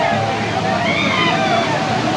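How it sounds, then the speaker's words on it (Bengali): Amboli waterfall in the Maharashtra hills, a steady broadband rush of falling water that holds constant throughout, with people talking over the roar. "এইটা হলো আম্বলি ওয়াটারফল।"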